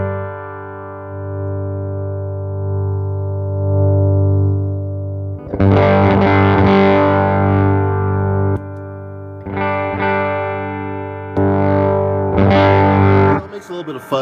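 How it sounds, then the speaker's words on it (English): A Naga Viper treble booster pedal played through a guitar amp set clean adds light fuzz to the tone. A sustained chord rings first, then several bursts of bright, gritty strumming separated by short gaps, with no talk. "So it makes a little bit of fuzz dirt on its own."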